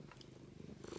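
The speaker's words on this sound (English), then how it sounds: "Don't stop purring." A cat purrs steadily and very close, a soft low rhythmic rumble with no other sounds.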